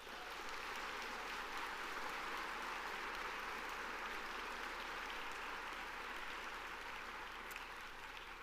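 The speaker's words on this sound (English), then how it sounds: "Please give yourselves a big round of applause." Sustained audience applause fills a room at an award luncheon honoring service, a dense, steady wash of many hands clapping at even loudness from start to finish, with no voices standing out.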